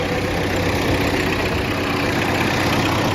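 A tractor engine idles close by in a field, a loud, even diesel rumble with a fast steady chug that holds unchanged throughout, with no talk.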